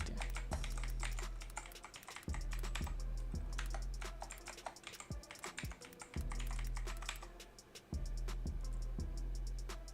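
Steady typing on a computer keyboard while filling in an online sign-up form, a dense run of crisp close key clicks with brief pauses between bursts, alone with no speech.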